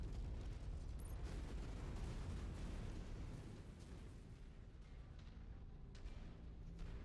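A giant mech blowing apart in the video game MechWarrior 5, a sustained loud rumbling, booming roar of explosion that fills the whole clip, easing slightly midway, with no talking.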